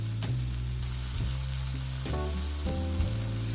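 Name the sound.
chicken thighs searing skin side down in a pan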